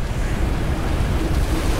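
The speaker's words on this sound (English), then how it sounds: "Oh, big waves are coming." Ocean surf rushes and churns in a steady, loud wash of noise with low rumble underneath, no talking, like waves breaking continuously nearby, in the video game Call of Cthulhu: Dark Corners of the Earth.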